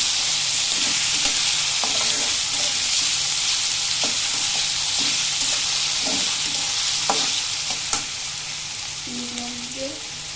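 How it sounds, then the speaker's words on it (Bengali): Leftover rice with chopped carrot being roasted in a pan, a loud continuous sizzle broken by repeated spatula scrapes and stirring knocks, close by and without speech. "এখন এটাকে সুন্দর করে ভেজে নিতে হবে।"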